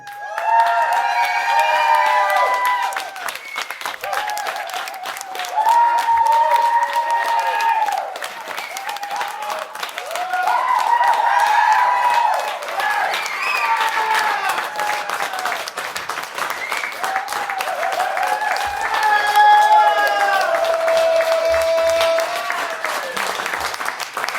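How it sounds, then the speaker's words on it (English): A live club audience at Zeke's gives a sustained, loud ovation of clapping and cheering as a musician comes on stage, the applause swelling in waves for over twenty seconds with whoops and shouts mixed in. "He wants everybody to give him a rousing ovation when he comes up"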